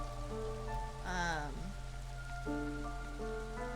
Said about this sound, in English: It's pretty much always raining.